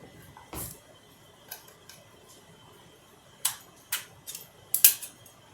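Several sharp metallic clicks and scrapes from the back of a paring knife prying at the lid of a tin can, scattered irregularly with quiet gaps between them, close up.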